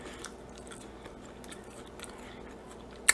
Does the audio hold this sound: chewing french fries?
yes